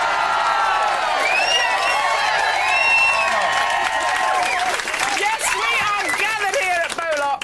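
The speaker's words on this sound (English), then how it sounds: "I confidently predict a big cheer." A studio crowd of well-wishers, friends and family at the final of the Big Breakfast's Find Me a Weather Presenter contest in 2000 cheers loudly, with steady clapping and scattered whoops and shouts throughout.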